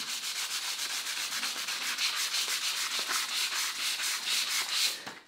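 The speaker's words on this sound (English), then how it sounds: "I'm going to go ahead and sand both sides following the instructions" Steady rhythmic sanding of a plastic model kit part, a fast back-and-forth scratchy rasp that continues evenly throughout at close range, with no talking.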